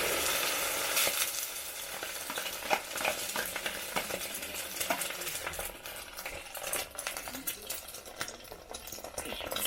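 Food being stirred in a saucepan heated over an open village fire with hot oil, scraping and clinking strokes repeating under a faint sizzle, with a voice speaking softly in the background.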